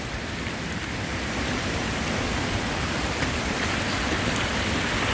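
Heavy rain pours down steadily in a rainforest with a dense, unbroken hiss that stays loud and constant throughout.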